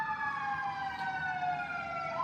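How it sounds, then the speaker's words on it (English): An emergency vehicle siren wails steadily in the distance, its tone slowly sliding, over faint road background. "Sorry about the siren"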